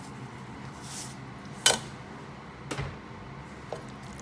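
A spoon stirs seafood chowder in a pot, giving a few soft, scattered clinks and scrapes against the metal at a quiet, close-up level with no talking.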